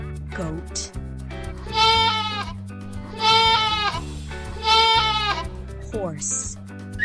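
A goat bleats three times, each call a long wavering cry rising out of quiet gaps, near and clear, with music playing beneath and short chime-like accents at the start and end.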